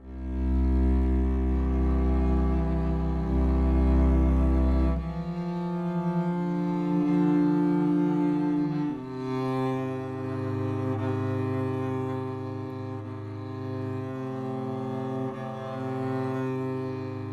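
Deep sustained bowed bass notes play a slow melodic line, each tone held for several seconds with rich, resonant low end and no voices.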